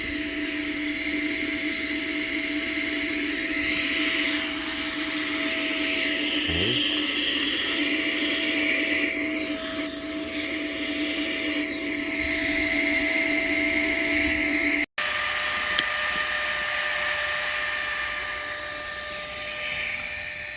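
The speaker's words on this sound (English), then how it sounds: "I put it on the deflate setting, not the inflate on the air pump, so I had to flip it around, and now it's actually inflating." An electric air pump drones in a steady, loud whine as it inflates a Klymit Static V insulated air mattress, keeping an even tone for about fifteen seconds, then briefly cutting out and resuming a slightly different pitch.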